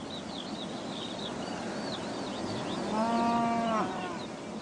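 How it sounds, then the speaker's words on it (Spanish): A cow from a farm herd gives one drawn-out moo, clear and moderately close, over a steady outdoor hiss with twittering birds in the background. "No son las mismas vacas, pero son de la misma raza."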